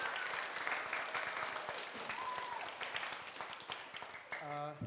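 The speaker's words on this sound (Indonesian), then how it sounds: "Tepuk tangan untuk teman-teman Indriasana" A church congregation claps during a Sunday Mass, a moderate ripple of applause heard at a distance with a voice speaking over it and a brief musical tone near the end.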